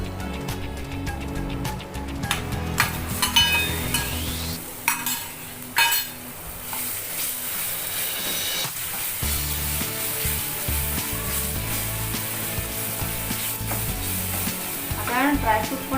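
Banana going into deep red-roasted semolina for prasad sheera, frying with a steady sizzle while a spoon scrapes and stirs the pan, occasional utensil clinks, close and continuous with no voices.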